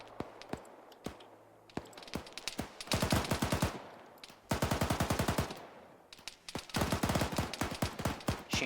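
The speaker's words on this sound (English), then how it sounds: "Machine guns firing to the south." Rapid machine gun bursts in the video game Arma 3, sharp repeated rounds in several strings with scattered single shots between, moderately distant and crisp against quiet surroundings.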